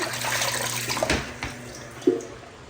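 Small shrimp are rinsed by hand in water, giving close splashing, sloshing and a few sharp plops with a faint background hum.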